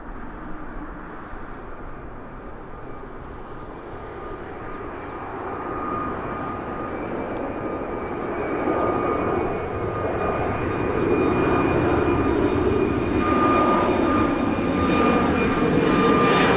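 A Wizz Air jet airliner taking off at Birmingham Airport, its engine roar building steadily from moderate to loud over the run, with a faint whining tone riding on top.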